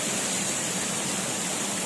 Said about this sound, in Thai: มีน้ำตกด้วยค่ะ